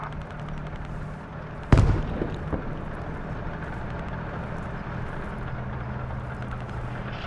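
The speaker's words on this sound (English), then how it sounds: "The friendly tank crews begin to open fire, the first few likely being used to range themselves correctly." Tank cannon fire in a competitive team video game: one heavy, sharp boom near the two-second mark with a short decaying tail, followed by a fainter second report, over a steady rumbling engine and battlefield background.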